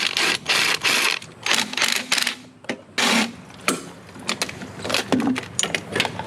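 A hand ratchet clicks in quick uneven runs while a bolted coolant fitting is undone on the side of a blown Ford 2.3L EcoBoost engine block, with close metallic clatter and brief pauses between bursts.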